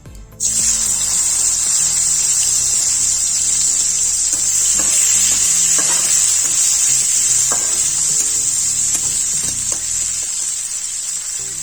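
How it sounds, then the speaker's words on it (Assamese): Raisins sizzle in hot oil in a pan for an Assamese veg polao, a loud, steady frying hiss that runs the whole time with occasional stirring clicks and scrapes, and nobody speaks. "কিচমিচখিনিও ফ্ৰাই কৰি লম।"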